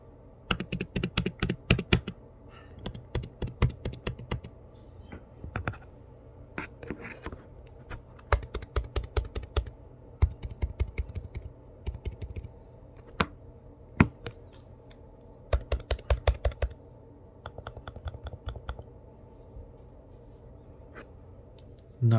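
Typing on an M2 MacBook Air keyboard, heard alone as bursts of quick, crisp key clicks separated by short pauses, close and moderately loud.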